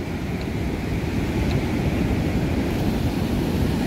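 Waves wash onto the shore at Puri beach, a dense, constant rumbling surf that fills the scene loudly and evenly from nearby, with a touch of wind and no voices.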